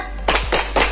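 Primary school students clap the rhythmic Safer Smart chant together, with three sharp group claps in quick succession heard close.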